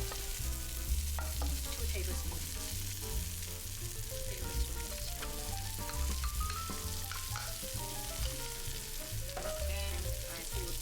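Garlic and fried shallots stir-fry in a pot, a steady crackling sizzle with repeated stirring scrapes, faint and close, with faint background music.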